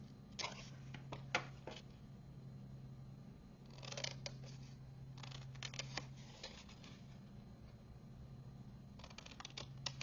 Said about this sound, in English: Just trimming out the width of that score line.